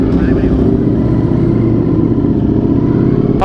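An Italian motorcycle engine rumbles and revs inside an underpass, a loud, close, steady growl that echoes off the walls for a few seconds.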